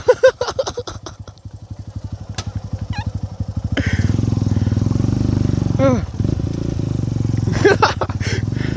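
Motorcycle engine labouring on an extreme off-road trail, a loud chugging idle that rises into a sustained strained roar, with voices talking over it near the start and end.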